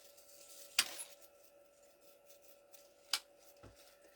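Scissors cut pieces off a Halloween centerpiece: two sharp, close snips about two seconds apart, with a faint third click, in an otherwise quiet room.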